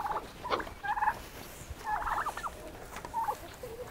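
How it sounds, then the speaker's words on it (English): Backyard fowl at feeding time giving repeated short gobbling, clucking calls in bursts, fairly close against faint outdoor background noise. "I'm going to go feed the chickens"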